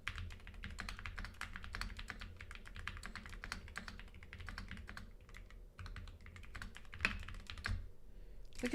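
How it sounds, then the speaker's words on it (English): Mechanical keyboard keys clatter in a steady, close typing rhythm with brief pauses, loud and alone without talk. "Are you guys mechanical keyboard people?"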